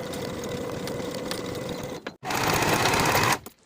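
A sewing machine runs fast stitching a jeans seam, a loud continuous buzzing chatter that pauses briefly, starts again even louder, then stops.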